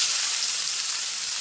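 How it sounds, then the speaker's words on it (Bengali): Chopped onion frying in hot oil for chicken kosha, a steady dense sizzle with a constant crackling hiss throughout, no voices. "পেঁয়াজটা একটু লাল লাল করে ভেজে নেব।"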